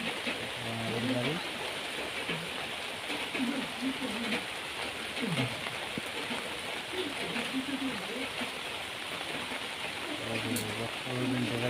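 Heavy monsoon rain falls steadily on surfaces in Agartala, a dense continuous hiss throughout with a voice speaking intermittently over it.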